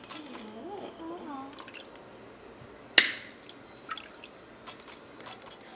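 Water scooped by hand and poured over a baby's head during the baby's first bath, heard as one sharp splash followed by scattered drips, close by. A baby's voice coos and fusses just before.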